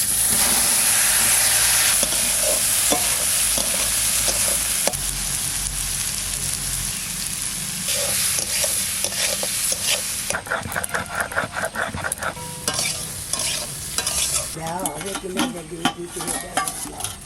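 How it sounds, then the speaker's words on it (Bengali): Potatoes frying in a pan for an ash gourd and hilsa head dish, a steady loud sizzle and hiss with intermittent stirring scrapes, later settling into a quieter, more rhythmic crackle. "আলুটা আগে ভেজে নেবো"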